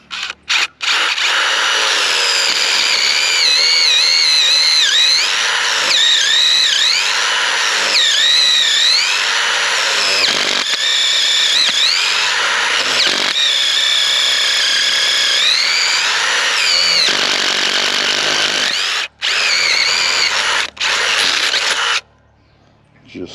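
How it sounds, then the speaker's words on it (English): Power drill boring a 5/8 inch hole in a garden fence post outdoors, a loud close whine that rises and falls as the bit bites and eases, with short pauses near the end. "I got my drill right here, drilling a 5/8 inch hole,"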